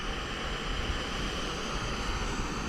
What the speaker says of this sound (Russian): Вот ветер.